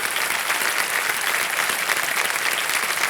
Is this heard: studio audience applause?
yes